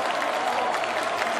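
Applause and crowd noise from a football stadium's stands, a dense steady clatter of clapping for a departing player, spread wide and fairly far off.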